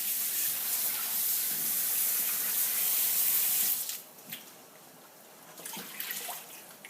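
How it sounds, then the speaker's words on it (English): Vegetables for a Jamaican-style pumpkin soup are rinsed under a running kitchen tap, with a steady hiss of flowing water that cuts off partway through, followed by faint drips and splashes. "Now wash the veggies and add them to the pressure cooker."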